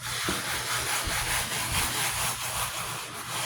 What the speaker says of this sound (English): So I'm going to try to scrub all the little pieces of glitter out of here.